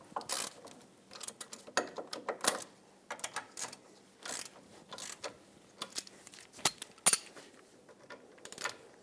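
A hand ratchet snugs up the front brake caliper bolts on a 2003-2008 Toyota Matrix, giving bursts of quick metallic clicking with brief pauses between strokes, close by.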